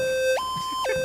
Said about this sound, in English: Sound the cringe alarm!